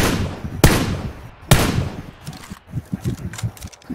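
Gunfire in the battle-royale game PUBG: two sharp, separate shots, then a rapid run of quicker, lighter shots, loud and close, with no voices.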